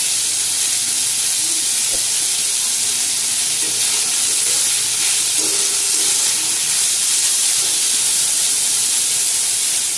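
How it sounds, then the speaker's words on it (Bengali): Onions frying in a pan for a chhana (paneer) dish, a steady loud sizzling hiss filling the whole stretch, close and continuous with faint clinks of stirring. "পেঁয়াজটাকে একটু হালকা লাল করে ভেজে নেব।"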